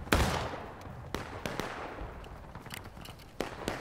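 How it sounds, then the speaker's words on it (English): Musket fire in the Civil War shooter War of Rights: a few sharp, fairly distant gun reports scattered across a soft battlefield background, with no dense volley. "Take aim west at the smoke flags. Aim. Fire."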